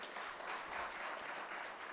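Audience at a Hindi kavi sammelan poetry gathering clapping together, a faint, distant, even patter of applause sustained for a couple of seconds.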